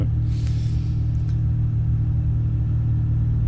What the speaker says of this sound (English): Sounds like a rough engine.